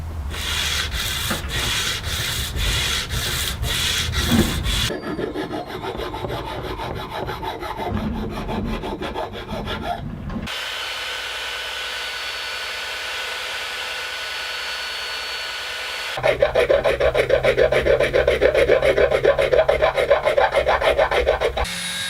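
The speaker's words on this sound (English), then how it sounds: "Now, I gotta sand it. I'm gonna sand it by about any means necessary." Sanding Purpleheart wood sign letters with scorched edges, long stretches of steady abrasive rubbing and grinding, first rapid rhythmic strokes, then a quieter buzzing pass and a louder power-sander whir at the end, close and alone.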